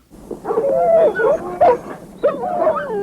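Several dogs in a film bark and yelp close up, a run of sharp overlapping barks and whimpering yips in two bursts with a short pause between.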